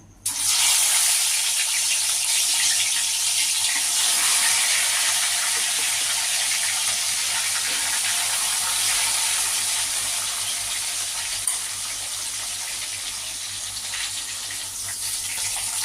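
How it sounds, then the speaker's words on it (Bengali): Katla fish frying in hot oil, a loud, steady hissing sizzle that starts abruptly and continues unbroken at close range, easing slightly toward the end. "তেল আমার আগের থেকেই বসানো ছিল গরম হয়ে গেছে এবার আমি মাছগুলো একে একে ভেজে নেব"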